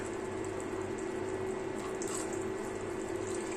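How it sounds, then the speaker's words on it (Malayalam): Water flows in a steady, unbroken stream into a pot of fish curry that is cooking in oil, a constant, moderately loud pour with no pauses and no speech. "ഇനി നമുക്കിതിലേക്ക് ആവശ്യത്തിന് വെള്ളം അങ്ങോട്ട് ചേർത്ത് കൊടുക്കണം."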